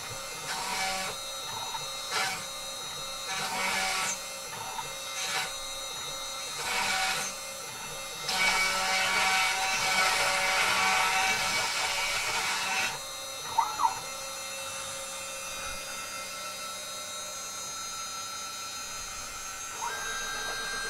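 CNC router spindle making test cuts for swivel bearings on a pick-and-place carousel part, moderately loud whirring bursts that start and stop in short passes, then quieter machine sounds with a few clicks.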